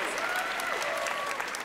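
A studio audience applauds in welcome for Chef Michael Bonacini at a culinary academy cooking event, with steady, dense clapping throughout and a faint voice or tone running beneath it.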